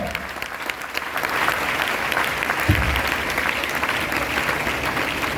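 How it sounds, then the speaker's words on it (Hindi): A crowd at a DXN gathering applauds Chanda Kumari, with sustained, even clapping that swells a little and holds steady, a broad wash of hands filling the room without pause. "चंदा जी के लिए, जबरदस्त तालियां।"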